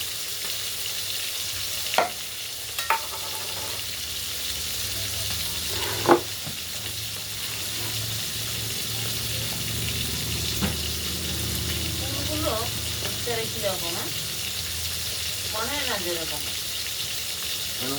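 Fish frying in a pan for a fish and cauliflower curry gives a steady broadband sizzle throughout, with occasional utensil knocks and scrapes and faint voices in the background.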